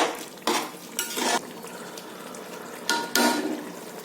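Chicken pulao with lemon juice stirred in a cooking pot: a few short scraping, clinking bursts of a spoon against the pot in an uneven rhythm, with quieter stretches between, close and moderately loud.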